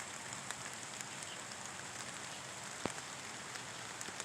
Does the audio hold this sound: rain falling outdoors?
yes